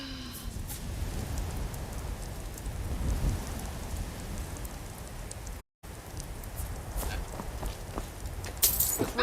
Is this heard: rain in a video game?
yes